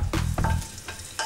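Bacon frying in a pan, with a brief crackling sizzle cut by a few scraping stirs close up and no voices.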